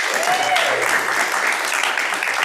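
Seminar audience applauding a guest instructor, steady dense clapping that stays loud and continuous throughout, with no talk over it.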